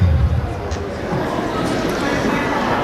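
A lively school audience chattering in a gym or auditorium before a Steered Straight assembly talk, a steady dense babble of many voices filling the room with no single voice standing out.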